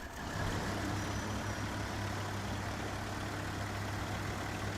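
Kenworth truck engine in a driving game, a steady low rumbling drone held at an even level for the whole stretch, with no other sounds over it.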